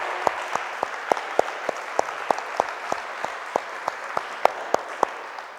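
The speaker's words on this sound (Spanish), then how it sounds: "Grande el aplauso es para Dios." A church congregation claps in a steady, sparse rhythm, each sharp clap standing out clearly and evenly spaced, moderately loud and fairly close, with no voices.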